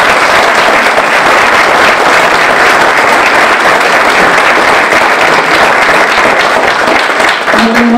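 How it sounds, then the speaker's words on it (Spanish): Loud, sustained audience applause fills the room at the close of a conference lecture on legal reforms, dense clapping holding steady throughout with only a slight dip near the end. "démosle otro fuerte aplauso por favor"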